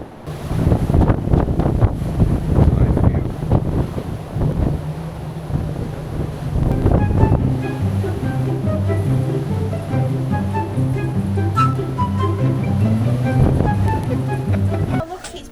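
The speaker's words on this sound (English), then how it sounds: "A bit rough today though, yeah, it's still the ocean." Rough ocean waves and heavy wind buffeting the open deck of a Cunard cruise ship at sea, a loud churning roar with gusts, later joined by a steady rhythmic musical pattern underneath.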